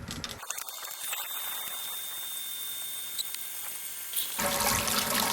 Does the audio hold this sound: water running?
yes